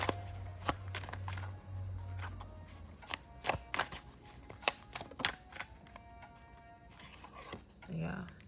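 Tarot cards are shuffled and drawn close up, with crisp riffling snaps and flicks in uneven bursts under a soft voice that talks intermittently.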